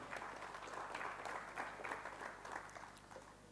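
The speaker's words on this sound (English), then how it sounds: "A big round of applause for Mr. Mattu." Audience at an office design summit claps for a speaker being introduced, a brief burst of steady, moderately distant applause with no voices over it.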